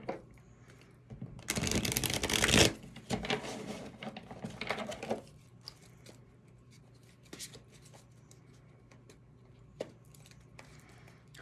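Love Oracle cards being shuffled by hand, a loud burst of riffling and slapping followed by softer scattered card rustles and taps, close and with no talk.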